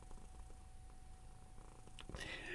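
A cat purring, a low steady rumble close to the microphone, with a brief rustle near the end and no speech.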